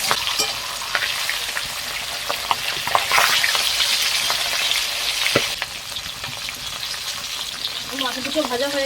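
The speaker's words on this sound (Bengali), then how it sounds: "মাছ দুটো ভাজা হয়ে গেছে, তুলে নেবো।" Two fish frying in a pan for a Bengali-style fish curry, a steady dense sizzle and crackle with occasional sharper spits, close and continuous throughout.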